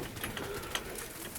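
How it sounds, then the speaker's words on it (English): Portuguese tumbler pigeons coo softly in a loft during a winter storm, a brief low murmur over steady background noise with one small clatter. "Portuguese tumblers."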